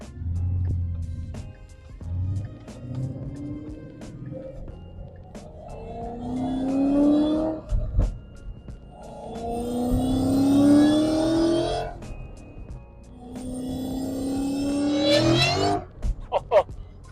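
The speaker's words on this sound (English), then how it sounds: "Open road here and do a little bit of a third gear pull." A boosted car running race gas with butane added accelerates hard in a third gear pull with traction control off. The engine rises in pitch through several surges, and its exhaust pops and crackles between pulls. Voices are heard faintly at times.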